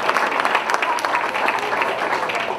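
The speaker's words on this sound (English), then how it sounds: "Another round of applause for Dr." An audience at a high school alumni hall of fame awards ceremony in Plainfield, New Jersey claps steadily, a dense, even round of applause filling the hall with no voices rising above it.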